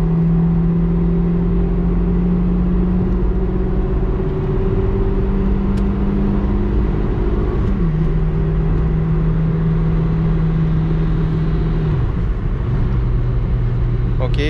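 A 1992 Citroen ZX engine roars at full throttle on a highway, a loud steady drone whose pitch holds high then drops and shifts as it revs, close and continuous, the car running very hot.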